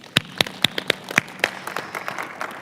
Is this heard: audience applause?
yes